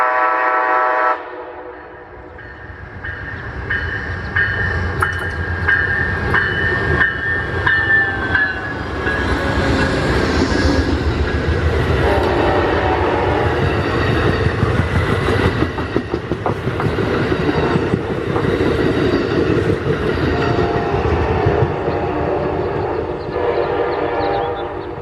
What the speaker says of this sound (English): Amtrak 11, approaches the grade crossing, slowing down to allow a meet with Cascades 500